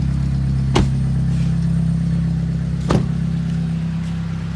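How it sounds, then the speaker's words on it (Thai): A car with an overhauled engine and a loud aftermarket racing exhaust holds a steady, deep droning rumble close by, broken by two sharp clicks. "ท่อดังนะครับ"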